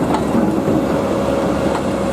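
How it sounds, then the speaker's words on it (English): A train rumbles into a halt platform on a heritage railway, with a continuous low rolling rumble, faint rhythmic wheel clicks and a steady tone above, near and moderately loud with no talking. "another train must come up to halt platform 2"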